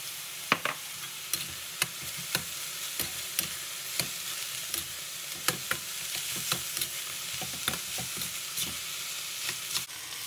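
Taro dumpling filling with oyster sauce is stir-fried in a pan, giving a soft hiss of frying with regular sharp clicks of a utensil against the pan, fairly quiet and without talk.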